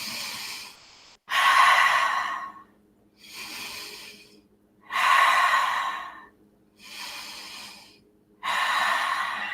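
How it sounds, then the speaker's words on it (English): Slow, deep breaths during a yoga pose, with three long audible exhales, each followed by a quieter inhale, heard close up in a quiet studio. "Let's breathe for 3."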